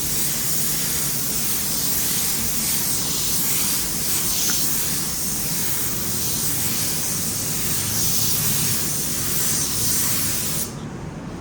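A cheap Amazon spray gun lays down a coat of paint with a steady, close, continuous hiss. It runs without pause for about eleven seconds, then cuts off abruptly near the end.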